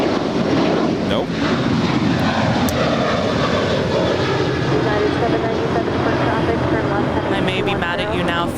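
A Finnair airliner taxis at LAX, its engines a loud, steady roar with wind buffeting the microphone throughout.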